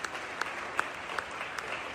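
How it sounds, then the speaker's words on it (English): Light, distant clapping from a crowd at a Democratic Party event in Arizona, steady with a few sharper claps standing out, no voices over it. "we should all give ourselves a round of applause for being here today"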